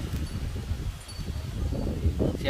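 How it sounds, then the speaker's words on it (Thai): Strong wind at an elephant village blows across the microphone outdoors, a continuous low rumbling buffet that rises and falls slightly, with faint rustling on top. "เสียงลมก็ต้องขอโทษขออภัยด้วยครับลมแรงมาก"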